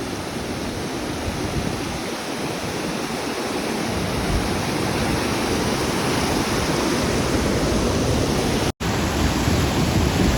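Kithawad waterfall roars as a loud, continuous rush of falling water, steady and close throughout with a momentary dropout near the end.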